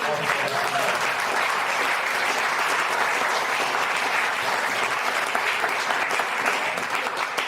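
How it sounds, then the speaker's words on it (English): A large audience at an anniversary celebration claps in a steady, dense roar of applause that holds evenly throughout without a break. "A big round of applause"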